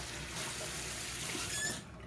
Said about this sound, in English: But before I do that, I rinse off my hands.